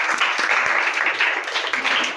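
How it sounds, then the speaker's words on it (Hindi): A classroom of students claps for a classmate, a steady, dense patter of many hands that keeps an even level from start to finish. "सुमित के लिए तालियां हो जाए"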